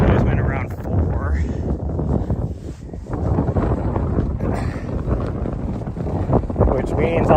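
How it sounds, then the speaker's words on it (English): Cold wind gusts buffet the microphone on a Montana trail with a loud continuous rumble, while a person talks over it throughout. "what the heck is this wind all of a sudden? That is cold too."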